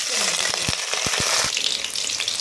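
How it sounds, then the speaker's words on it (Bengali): Finely chopped onion frying in oil in a pan, a loud, dense, continuous sizzle up close, punctuated by several soft knocks of a utensil stirring against the pan. "পেঁয়াজটাকে আমি এখন ভেজে নেব ভালো করে লালচে করে একটু ভেজে নেব"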